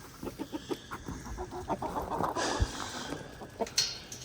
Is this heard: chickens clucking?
yes